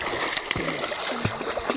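A child swims in rain floodwater covering a road, splashing in quick repeated slaps and gurgles close by, with voices talking over the water.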